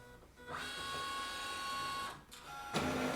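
A Brother MFC-L2820DW printer copies an ID card with a close whirring mechanical run, a brief pause, then a second burst of feed noise and whine.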